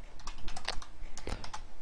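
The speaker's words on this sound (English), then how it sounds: "I'm just going to start typing and hopefully you'll be able to follow along" Fingers type steadily on a computer keyboard while entering HTML code, producing a close, rapid run of sharp clicks and taps with small irregular pauses and no talking.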